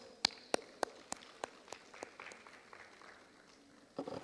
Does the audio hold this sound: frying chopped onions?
no